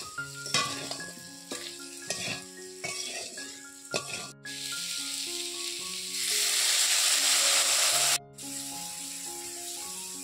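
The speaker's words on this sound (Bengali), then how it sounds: "পোস্ত আলু পটল সবগুলোকে ভালো করে কষিয়ে নিতে হবে" Potatoes, pointed gourd and poppy seeds are sautéed in a pan, making a steady sizzle that swells loudest midway, with stirring scrapes and background music throughout.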